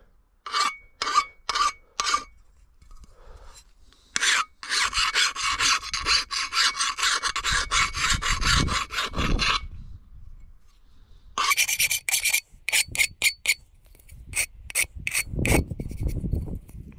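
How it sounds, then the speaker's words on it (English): A boat propeller being filed by hand to remove burrs, harsh rasping strokes in short bursts, then a long sustained stretch of scraping, then more quick repeated strokes, close and loud with no talking. "if you've got a prop with a load of burrs on it, make sure you smooth it off"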